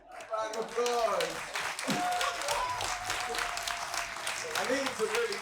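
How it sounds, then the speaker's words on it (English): An audience breaks into applause, a dense patter of clapping that swells and holds, with a voice speaking over it at the start. "Round of applause."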